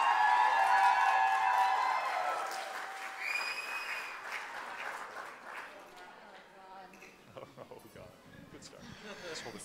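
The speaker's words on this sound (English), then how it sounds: "Please, a huge round of applause." Wedding guests applaud loudly at an evening reception, the clapping strongest at the start and fading over the next few seconds as murmuring voices and movement continue beneath.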